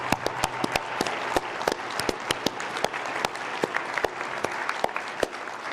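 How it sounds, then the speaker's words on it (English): An audience at a talk featuring Professor Robbie George claps in a warm, sustained round, with sharp individual claps standing out close by over the dense clapping of the crowd. "you all deserve a huge round of applause"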